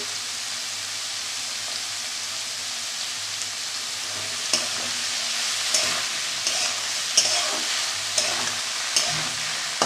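Bitter gourd and potato crackle and sizzle in a pan with salt and broken green chillies while a utensil stirs them, scraping at intervals with a few sharp clinks against the steady frying.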